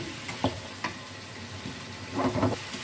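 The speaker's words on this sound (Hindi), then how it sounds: "नमक मिर्च को हम मिक्स कर लेते हैं और चिकन को भून लेते हैं।" Chicken frying in a pan for biryani, a steady sizzle with a few scraping stirs and spoon knocks, close and alone with no talk.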